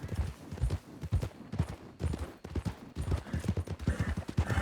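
Horse hooves from a ride in a video game gallop in quick, loud clusters of clip-clop beats, close by and nearly alone, with short pauses between bursts.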